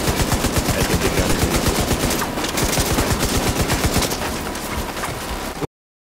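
Rapid, loud machine gun bursts from a big gun in The Division 2 shooter game, sustained for several seconds with dense rhythmic shots, then cutting off abruptly near the end.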